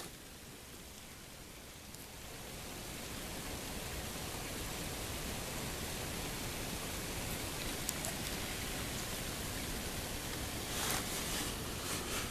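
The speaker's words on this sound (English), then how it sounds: "You'll hear the rain." Steady early-morning thunderstorm rain patters and hisses outside an opened window, growing fuller after a couple of seconds, a soft wash of drops with occasional brighter ticks and no talking.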